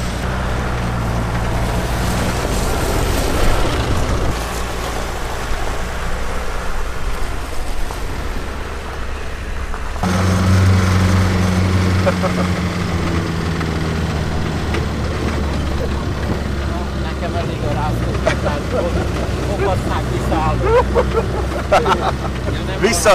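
The Deutz diesel engine of an old TAM 110 truck runs steadily with a low, rough drone throughout, and people talk over it.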